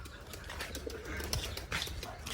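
Pigeons inside a loft give off low, soft coos and fluttery rustles, close and intimate, over a quiet indoor background with a few brief clicks.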